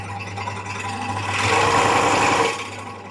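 A Ronix 5701 scroll saw runs with a steady mechanical whir and buzz, the motor rising in pitch and intensity midway before easing, heard close with no talking.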